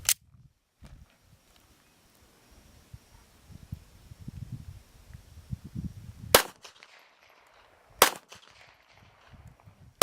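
Sharp, loud pistol reports from a Smith & Wesson M&P9 with a standard 4.25-inch barrel firing 158-grain subsonic handloads: four separate shots spaced seconds apart, with faint low rustling and handling noise between them.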